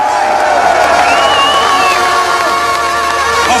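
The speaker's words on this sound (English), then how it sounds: "have you ever seen a reception like this for a crowd to get behind their man, their hero?" Manchester crowd cheering at a boxing press event for Hatton and Mayweather, a loud, sustained roar of whoops and shouts from a large gathering, continuous throughout.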